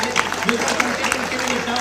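Audience applause at a Hindi comic poetry recital in Gonda, a dense, steady wash of clapping lasting under two seconds, with a voice carrying over it.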